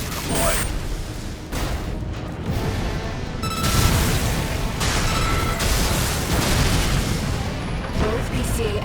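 Explosions as two PCA-SP craft are destroyed in Armored Core VI: Fires of Rubicon, heavy booms and mechanical clatter rolling through several bursts, loud and close, with radio voices speaking over the action.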